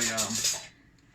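A metal knife picked up from a kitchen counter gives a brief clatter of cutlery against a hard surface, close and sharp, then quickly fades to quiet.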